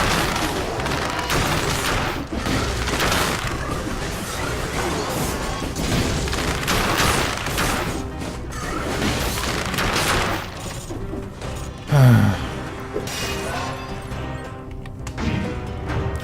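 Gunfire and impacts in the action game Dead Cells crack and boom through a busy, loud stretch of game audio, with a heavier low thump standing out near the end amid constant clatter.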